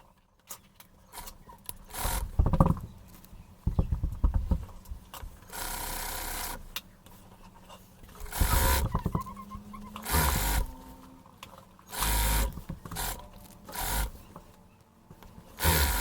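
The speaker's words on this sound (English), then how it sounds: "we're gonna make a stitch on the biggest step on your sewing machine" Sewing machine stitching fabric in repeated short runs of rapid mechanical whirring, separated by quiet pauses and small handling noises, close and without talk.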